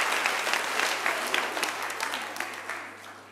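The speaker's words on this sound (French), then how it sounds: "nous pouvons tous les remercier et les applaudir encore une fois." A church congregation at Sunday mass in Vauréal, June 2015, applauds the clergy and volunteers: full, dense clapping from a large gathering, strong at first and gradually tapering off toward the end.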